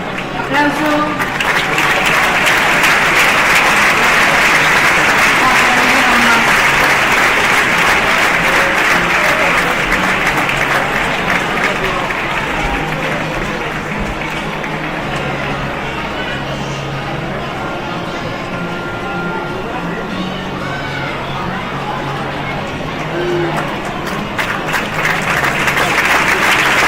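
Sustained audience applause fills a hall at an Asturian handball awards gala, a loud, thick wash of clapping that runs unbroken for nearly half a minute and eases slightly toward the end.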